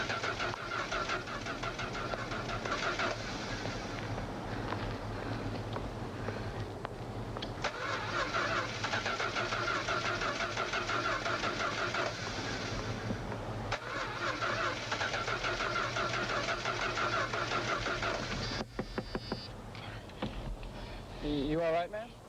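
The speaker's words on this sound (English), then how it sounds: "I'm just having a little trouble starting the car" A car engine cranks over and over without catching, the starter grinding in long, continuous bursts with brief pauses, loud and close, followed by a few sputters near the end.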